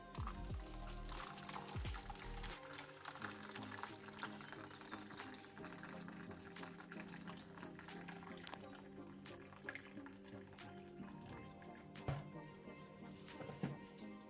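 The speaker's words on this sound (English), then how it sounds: "And add the boiling water." Boiling water poured into a container for Spanish yoghurt, a faint soft trickling splash running under low background noise, with a few small knocks along the way.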